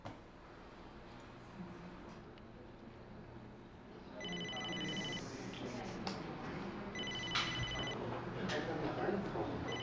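A telephone rings in two electronic bursts over a low background hum, with faint voices murmuring beneath.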